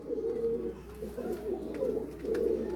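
A pigeon offered for sale coos in repeated soft, low rolling calls, close and clear, with no talking.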